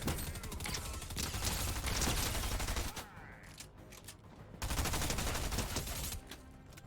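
Rapid automatic weapon fire in Fortnite, loud dense bursts with mechanical clatter, broken by a short lull around three to four and a half seconds before firing resumes, then trails off near the end.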